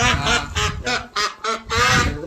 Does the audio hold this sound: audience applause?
no